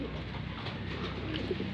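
Soft, low cooing of pigeons, close by, repeating quietly against a faint background murmur.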